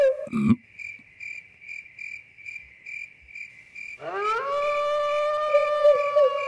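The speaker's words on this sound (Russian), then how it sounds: "сверчки поют" Crickets chirping outdoors at night, a regular pulsing trill of evenly spaced chirps, then a louder sustained tonal howl-like sound swells in and carries on over it.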